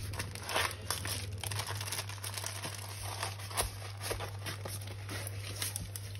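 Plastic zip bags holding round diamond beads crinkle and rustle as they are handled and repacked, close and quiet over a steady low hum, with no talk.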